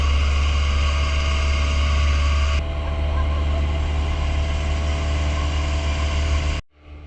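A junk-style trimaran boat's engine drones steadily and close by on the water in the Philippines, a low continuous hum that shifts slightly midway and then cuts off abruptly near the end.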